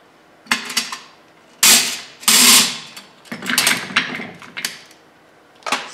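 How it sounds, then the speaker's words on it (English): An AR rifle buffer and spring being pulled out of the buffer tube, heard as a series of close metallic clicks, slides and rattles in irregular bursts with quiet gaps between. "let's take out this buffer and spring"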